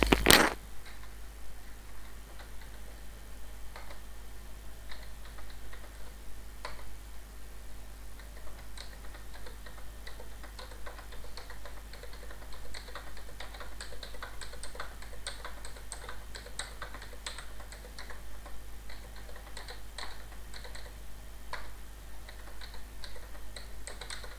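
Typing numbers on a computer keyboard while inserting a table, a steady run of light, close key clicks and taps over a faint background hum, with no one speaking.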